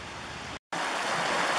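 A small salmon creek at Heron Cove runs with a steady, close rushing of water, broken by a brief gap of silence.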